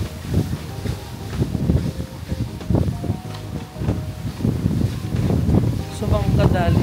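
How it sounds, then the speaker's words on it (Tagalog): Strong wind roars and buffets the microphone in heavy gusts at Seaport Beach, Cape Town, while people talk underneath, with a rough, continuous low rumble throughout. "Ang lakas ng hangin."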